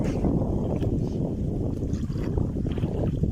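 A small boat being rowed on calm water in the early morning, steady broadband splashing and wind-like wash running continuously and fairly close, with no talk.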